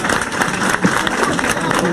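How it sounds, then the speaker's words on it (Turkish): Applause from a Trabzonspor team gathering honoring teammates and the coach, a dense, steady patter of clapping over a murmuring crowd with voices mixed in. "Arkadaşlarımız ve hocamız, alkışlıyoruz."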